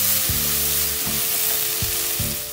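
Chopped tomato fries in a hot pan for egg bhurji, a close steady sizzle punctuated by a few scraping stirs, with no one speaking.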